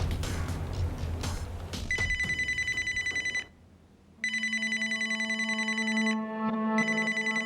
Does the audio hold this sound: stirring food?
no